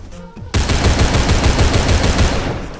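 Continuous rapid automatic fire from an HCAR rifle fitted with a muzzle brake in the Phantom Forces video game, loud and close, one unbroken burst after a brief quiet start.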